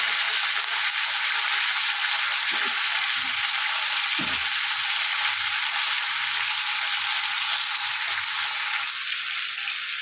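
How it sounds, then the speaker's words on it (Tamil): Chicken sautéing in oil with salt and turmeric for Andhra spicy chicken gives a steady, bright hiss of frying, with a few soft bumps of stirring now and then. "சிக்கனை போட்டு கொஞ்சம் உப்பு மஞ்சத்தூள் போட்டு நல்லா வதக்கணும்."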